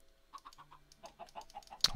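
Chickens in the video game Minecraft give a run of short, evenly spaced clucks, moderately close, ending in a brighter, louder squawk.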